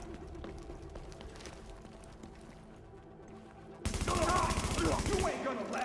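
Rapid burst of video game gunfire erupts partway through, loud and dense after a quieter stretch of background game sound and music.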